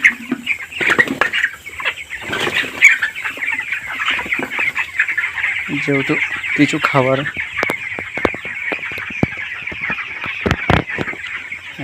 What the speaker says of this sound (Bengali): এই যে এগুলো হচ্ছে 20 দিনের মুরগির বাচ্চা।